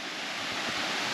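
A tropical waterfall near Nadi, Fiji, gives a steady, broad rushing roar with no breaks, heard alone at a moderate distance for about a second.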